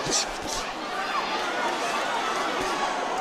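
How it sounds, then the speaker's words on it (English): Arena crowd cheering at a middleweight boxing title fight between Golovkin and Canelo, a broad continuous roar of voices with commentary over it. "These middleweights are giving the crowd something to cheer about."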